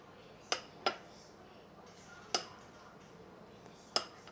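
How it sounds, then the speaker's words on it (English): A spoon stirring wonton soup in a pot, four sparse bright clinks against the metal over a faint quiet background, close but soft. "Give it a bit of stir."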